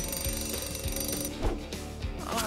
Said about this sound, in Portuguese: Um despertador?